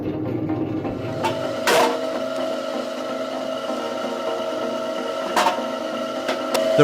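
A Roberta V1 wood splitter, its heavy steel pushing arm driving through hard wood, gives a steady, fairly loud mechanical whine and hum, broken by a few sharp cracks as the log gives way.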